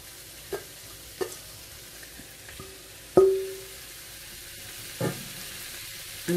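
Salted codfish stirred into a pan of sautéed onions and peppers, a quiet steady sizzle broken by several sharp utensil scrapes and knocks against the pan.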